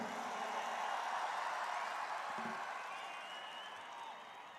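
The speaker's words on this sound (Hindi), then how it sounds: "एक बार खेल और खिलाड़ियों के लिए जोरदार तालियां बजा दीजिए" An audience at a sports event in Silvassa claps for the players, a dense wash of applause at moderate distance that slowly fades toward the end, with no voices over it.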